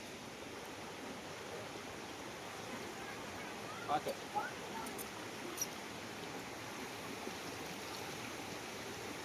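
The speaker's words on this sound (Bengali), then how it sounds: "জল দেখো এদিকে বহুত জল পড়ছে।" Water pours steadily at Bamni waterfall in Ayodhya, a broad, even rush that runs through the whole stretch. A few faint clicks sound near the middle, and no clear speech is heard.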